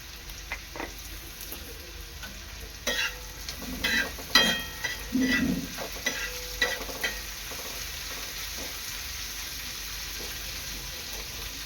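Palak (spinach) rice with browned onion sautéing in a pan, a steady sizzle broken by a spoon scraping and stirring in loud, clustered strokes that settle back into a constant fry.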